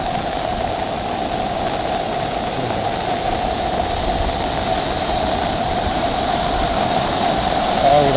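A stream behind a house in flood after a cloudburst, its rushing water a steady, loud broadband roar that holds evenly throughout with no pauses.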